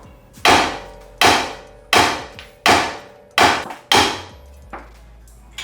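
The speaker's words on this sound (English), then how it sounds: "So we're gonna have to whack out this tie rod." Six sharp hammer whacks strike a car's tie rod during a Honda/Acura lower ball joint job, evenly spaced about a second apart, loud and close with ringing metallic decay, the last blow softer.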